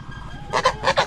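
Two quick pairs of loud, nasal honks from white geese, close by, over a low background hum.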